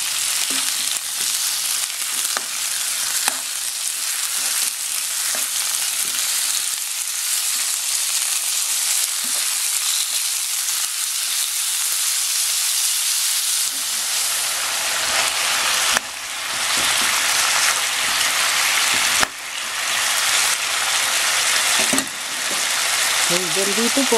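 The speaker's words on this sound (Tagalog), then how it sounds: "Haluin natin." Beef marinated in soy sauce and lemon juice frying in a pan for bistek Tagalog, a loud continuous sizzle with scraping stirs and a few sharp utensil knocks against the pan.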